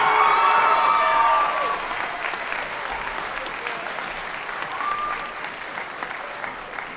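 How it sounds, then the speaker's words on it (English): Audience applause at a school percussion and jazz concert, strongest at the start and then settling into steady, slightly lighter clapping that carries on to the end. "I think we should clap more for Cooper."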